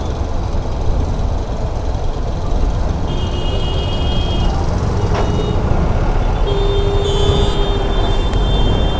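A vehicle backing up on a busy road, a high reversing beep sounding intermittently over loud traffic rumble and engine noise, with a sharp hiss near the middle.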